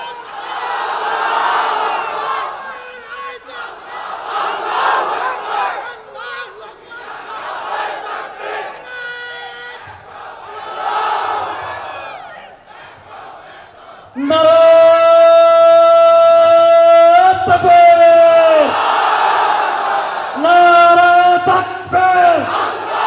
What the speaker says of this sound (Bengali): এটা জোয়ান পারে না, তাকবীর করতে কি পারে না?